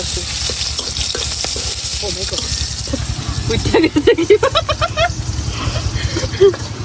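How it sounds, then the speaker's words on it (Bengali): Chopped onions frying in a pan with cardamom pods and cinnamon for Indian-style aloo singara, a steady close sizzle with stirring and scraping, while a person talks over it. "এখন এই পেঁয়াজের মধ্যে আমি দুইটা এলাচ একটু দারচিনি দিয়ে দিতেছি"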